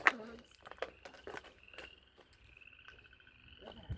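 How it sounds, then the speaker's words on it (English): Faint frog croaks scattered through quiet outdoor background at a junkyard, with a soft trilling tone running underneath and a brief voice at the start. "there are a lot of frogs. If you can hear frogs"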